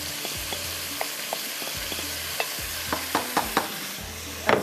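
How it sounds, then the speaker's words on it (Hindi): Fried vegetables with sauces are stirred in a pan, giving a soft sizzle under repeated scraping and clinking strokes of the spoon, louder near the end. "अब इसको करते हैं मिक्स"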